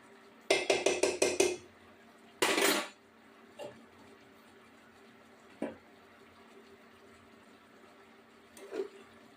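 A utensil stirs cauliflower frying in ghee with garam masala in a pan. It starts with a quick run of metallic clinks and scrapes, then a short scraping burst, then a few sparse soft taps over a quiet background.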